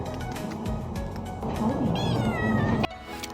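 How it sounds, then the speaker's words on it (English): Cat meowing outdoors on a first day of travel in China, a drawn-out, rising and falling meow over busy background noise and voices, ending abruptly. "Then I saw the most adorable cat, which is called Mao in Chinese"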